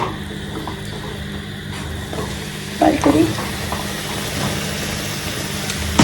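Luchi, puffed fried bread, frying one at a time in a small kadai makes a continuous hissing sizzle over a low background hum, with a brief burst of clatter midway.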